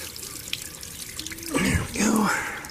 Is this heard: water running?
yes